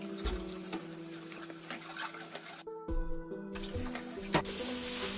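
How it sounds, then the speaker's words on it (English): Red peppers are washed under a running kitchen tap, a steady close rush of water with splashes and brief gaps as the flow is interrupted, without any talking. "Wash red peppers."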